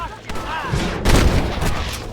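Gunfire in the video game Red Dead Redemption, a burst of several loud shots and booming reports with a voice shouting over the shooting.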